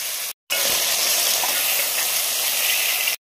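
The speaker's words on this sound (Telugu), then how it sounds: "ఇది కూడా దోరగా వేగేవరకు ఫ్రై చేయండి." Cut vegetables frying in hot oil for masala rice, a steady loud broadband sizzle that runs unbroken for about three seconds, with brief silent gaps at the start and end.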